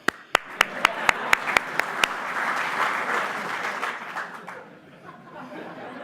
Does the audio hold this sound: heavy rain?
no